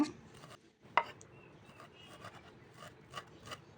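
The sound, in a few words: coriander leaves being finely chopped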